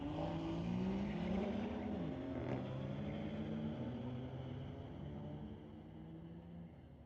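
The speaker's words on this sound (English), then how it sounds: "Brings up Shubin Guan, a BMW F82, racing against Vikram Brar in that 2017 BMW" A BMW F82 and a 2017 BMW drag racing at a street-legal night at Mission Raceway Park, a fairly distant engine roar climbing through gears and fading away as the cars pull off.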